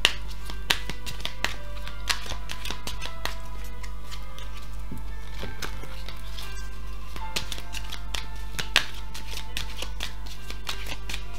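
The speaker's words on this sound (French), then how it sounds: "on mélange la carte et on procède au tirage" Tarot cards shuffled by hand, giving a steady run of crisp papery clicks and slaps over a low constant hum, with a few sharper snaps standing out.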